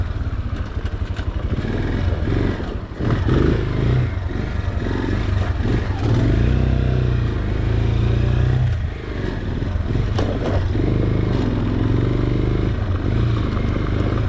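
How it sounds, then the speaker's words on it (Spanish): An Italika DM 200 motorcycle rides along a dirt road, its engine droning steadily with rises in revving and the clatter of rough terrain, loud and close throughout with no talk. "Es tremenda esta moto, la verdad, es tremenda."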